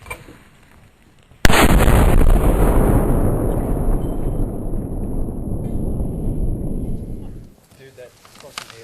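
A 7 cm Spanish mountain rifle, an old artillery cannon, fires once with a sudden deafening blast that rolls and echoes for about six seconds before dying away outdoors.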